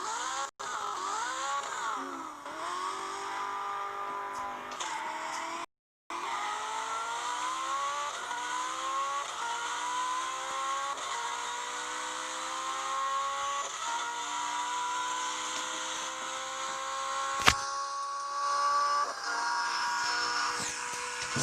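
A V12 Ferrari engine sound plays from a phone app, revving up and then climbing steadily through long accelerating pulls with gear-like steps, loud and continuous, no voices.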